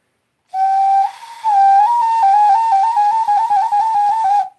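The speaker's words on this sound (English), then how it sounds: "We made this whistle." A handmade multi-tonal wooden whistle is blown in one sustained, clear tone that steps between several pitches and warbles for about four seconds, close and loud.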